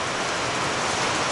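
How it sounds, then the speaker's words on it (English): Heavy rain pours steadily onto the roof of an abandoned house in New Zealand, a dense, unbroken hiss that stays loud and close throughout with no voices. "Just gonna wait until the rain would stop."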